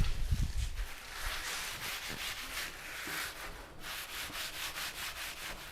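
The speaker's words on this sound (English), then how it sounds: "Burnish it up a little bit so it doesn't stick me" Hand burnishing of a wooden moulding shape, a steady rubbing and scraping that repeats in even strokes at close range, with a few low knocks near the start and no talking.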